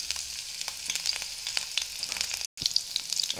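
Chopped ginger and green chilli frying in hot oil for chilli idli give a steady, fairly quiet crackling sizzle with lots of fine pops, broken by one brief moment of silence.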